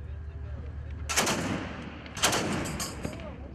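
Gunfire from a ship at a marked target during a border guard drill on the Caspian Sea: two sharp, loud shots about a second apart, each leaving a booming decay.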